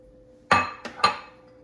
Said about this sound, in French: mon beurre est fondu. Je vais ajouter mon maïs ici.